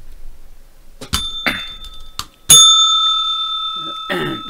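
A small hand bell is struck several times at a live trading broadcast, giving sharp metallic rings in an irregular pattern, with one longer ringing tone that lingers and fades.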